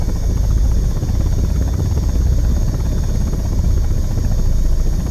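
A steady, loud attack-helicopter rotor drone from the Impact Storm combat game, continuous low thumping and engine whine with no pauses throughout.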